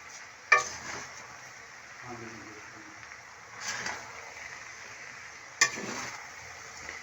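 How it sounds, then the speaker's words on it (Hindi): Vegetable biryani mixed in a pot, with a few faint spoon scrapes and clinks against the metal separated by quiet pauses. "अच्छी तरह से इसे मिक्स करते हैं"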